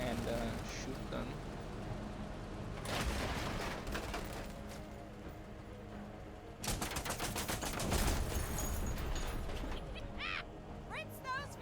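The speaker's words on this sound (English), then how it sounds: "that heavy HMG, heavy machine gun, is really paying off here" In the tactical video game Menace, a heavy machine gun fires loud sustained bursts in two main stretches, layered over a dense background of battle noise.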